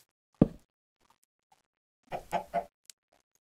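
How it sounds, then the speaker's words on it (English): A chicken clucks in a survival crafting video game set in a desert, with one sharp single cluck followed by a quick burst of three clucks, close and clear against near silence. "Chicken"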